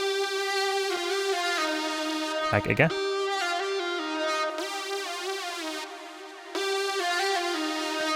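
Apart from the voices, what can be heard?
layered Serum synth preset with high-pass filter, delay, EQ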